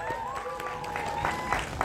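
An audience claps steadily at the gala premiere of the Indonesian film Pusaka, a continuous close wash of applause lasting the whole moment, with a voice faintly present over it.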